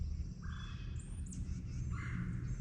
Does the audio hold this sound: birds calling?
yes